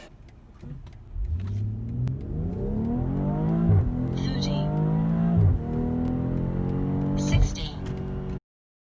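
A 2020 BMW X3 M40i accelerates hard in a 0-60 run, its engine climbing in pitch through several gears with brief dips at each shift before cutting off abruptly; occupants talk over it.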